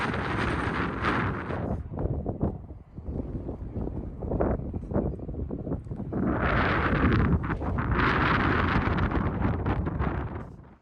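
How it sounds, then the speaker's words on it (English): Strong wind buffets the microphone almost continuously on a walk up to a hilltop, a loud rumbling roar with gusts that surge and fade, nearly drowning everything else. "It's a bit windy, hopefully you can hear me."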